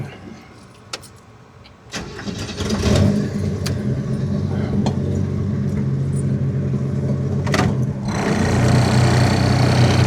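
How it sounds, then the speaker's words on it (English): A classic car pulls up alongside, its mid-range engine idling and rising to a louder, steady running rumble nearby, with a few clicks and clatters, and no talk. "Another classic car has just pulled up next to me"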